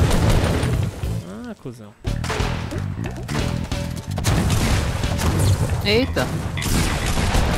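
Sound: gunfire from the video game Fortnite

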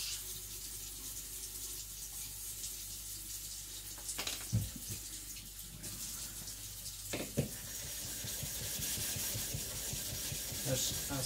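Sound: knife being worked on a 1000 grit whetstone

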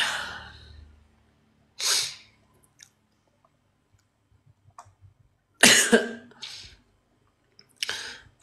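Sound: coughing

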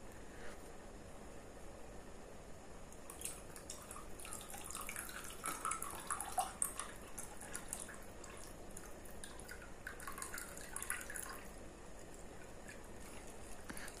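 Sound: clean water being poured into a glass of whisky

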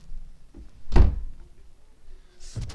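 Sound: door closing in Minecraft video game

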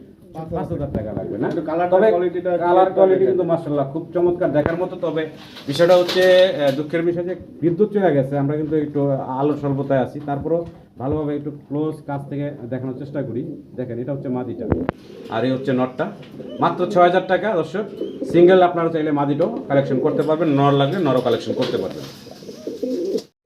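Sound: Spanish GNS pigeons cooing at a pigeon farm

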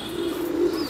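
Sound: pigeons

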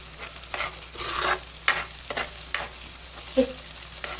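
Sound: masala frying in onion and oil

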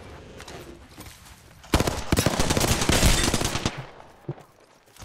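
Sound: gunfire in the video game Apex Legends

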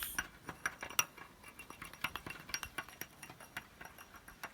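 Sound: stirring baking soda and food dye

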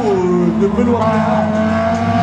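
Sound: race car on a slalom track

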